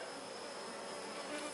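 Honeybees buzz at an open hive during an inspection in August, a dense, continuous droning hum that stays close and even throughout, with no talking.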